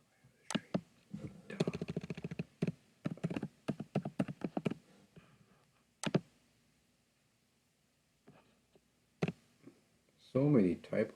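Computer keyboard typing during a C++ coding lecture, heard as quick bursts of close, crisp key clicks separated by short pauses, with a final flurry near the end.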